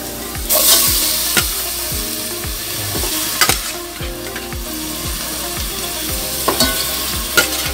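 Chicken pieces fry loudly in a pan with onion, garlic and ginger, a constant crackling sizzle broken by repeated scraping strokes of a spatula against the metal.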